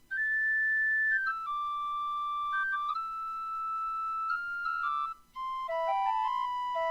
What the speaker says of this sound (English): so I found this sound, Celtic tin whistle.